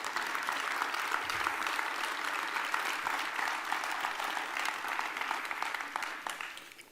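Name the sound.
audience applause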